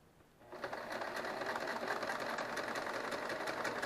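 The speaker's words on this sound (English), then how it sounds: "I'm going to drop my needle down for positioning. Slide it right in there until it stops. Take a stitch" A sewing machine stitches quilt binding, starting up after a brief quiet moment and then running in a steady, close, continuous whir with rapid needle chatter and no talk.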